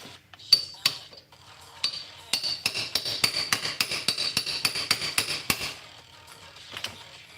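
Metal parts of an oil gun being hammered together, a series of sharp, bright metallic strikes at an uneven pace that speeds into a steady run of blows before trailing off to a few last taps, close and loud with no talking.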